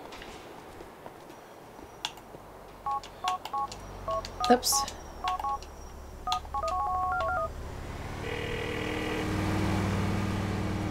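Touch-tone keypad beeps from a phone being dialed in GTA IV, a quick irregular run of short electronic tones, followed by a steady ringing buzz, over low engine and street ambience, with a brief spoken exclamation.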